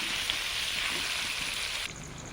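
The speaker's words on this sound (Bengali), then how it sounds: "আলু ভাজা চলছে।" Potatoes frying in a pan give off a steady, close sizzling hiss that drops slightly in level near the end, with no talk over it.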